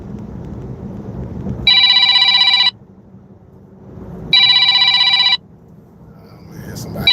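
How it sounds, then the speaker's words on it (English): Electronic telephone ringtone with two loud bursts about a second long each, separated by quieter background noise, with a third ring just starting at the end. "Oh man, somebody called the phone."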